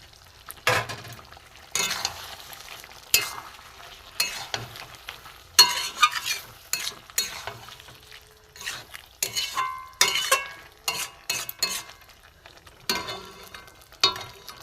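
Boiled cabbage, with a spoonful of sugar added, is stirred in a pan for vegetarian cabbage paturi, heard as intermittent scraping and clattering spoon strokes over a faint low sizzle, close and irregular.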